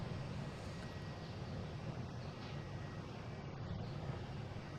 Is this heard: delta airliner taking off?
yes